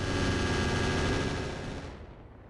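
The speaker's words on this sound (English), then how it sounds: "There's still that artillery out there. It did manage to hit the Maxim." A heavy artillery blast in RogueTech, a BattleTech mech game, roars loudly with a dense rumbling wash that holds for nearly two seconds, then cuts off into a faint low tail.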